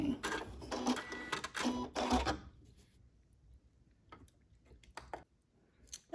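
A Janome MC9450 sewing machine stitching sideways, a dense rapid mechanical chatter for about two seconds, then mostly quiet with a few short clicks and taps.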